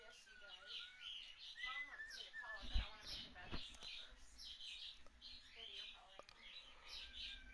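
Close, lively chirps, tweets and small squawks from a pet bird repeat throughout, with a couple of sharp knocks partway through and faint talk in the background.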